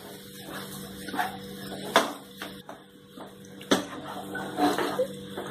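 Egg devil filling with lemon juice is stirred in a pan, giving close, intermittent scraping and clinking strokes with a few sharper knocks, against a faint steady background hum.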